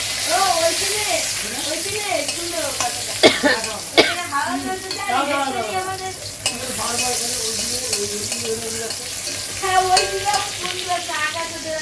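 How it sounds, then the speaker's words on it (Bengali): A continuous hissing sizzle of pointed gourd (potol) frying in a pan runs under someone talking nearby. A few louder stirring scrapes cut through. "গরম গরম পটল ভাজা খেতে সেই ভালোবাসে,"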